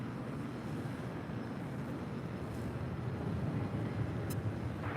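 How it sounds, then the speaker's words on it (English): A Viva Aerobus Airbus A320 arriving at LAX from Guadalajara produces a steady, moderately distant jet roar that swells slightly toward the end, with no voices. "Next arrival is at Viva Aerobus A320 coming in from Guadalajara, flight 510"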